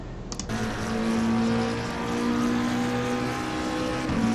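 Race car engine on a hot lap in Assetto Corsa Competizione at the Hungaroring, a loud steady drone holding a sustained pitch down the front stretch after a brief opening click.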